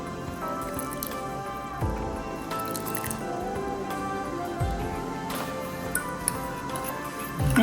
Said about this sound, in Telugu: Mix everything well.